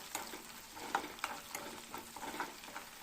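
Spices including cumin frying in a pan for Assamese fish curry, heard as a soft steady sizzle broken by repeated light scraping strokes of a stirring spoon, fairly faint and close.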